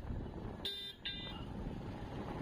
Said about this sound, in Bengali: তো আমি এখানে গাড়ি চালানোর সময় প্রচুর পরিমাণে হর্ন দিচ্ছিলাম